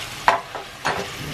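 Noodles with chicken and broccoli sizzle in a hot pan, with two or three sharp scraping bursts as a spoon stirs them over a steady low frying hiss.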